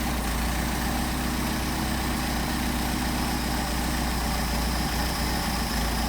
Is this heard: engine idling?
yes